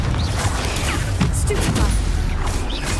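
Spell effects from the video game Hogwarts Legacy crackle and thump in a dense, loud wash, with bursts of impact around the middle, the caster's voice barely standing out from the steady barrage.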